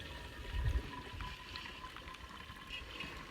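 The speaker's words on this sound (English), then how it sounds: "So then you just pour it in and it filters it right there." Fresh cow's milk is poured by hand through a filter, making a faint, steady liquid trickle after a soft low thump near the start.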